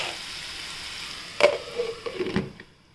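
Spring onion greens sautéing in a pan for a Maharashtrian bhaji: a soft sizzle with a few clattering stirs and scrapes of the spatula, close and moderately loud, fading out near the end.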